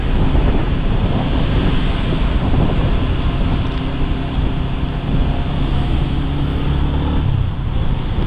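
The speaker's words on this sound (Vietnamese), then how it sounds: "gió ở thành phố Quy Nhơn hiện tại thì khá là to" Strong wind in Quy Nhon, Vietnam roars and buffets the microphone steadily throughout, a loud broadband rush with low rumbling gusts and no voices.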